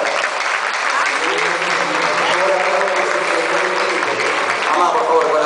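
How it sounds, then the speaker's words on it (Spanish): Theatre audience at a medical students' tuna music night applauding steadily, a dense wash of clapping with voices and cheers mixed in throughout. "¿Dónde están esas palmas?"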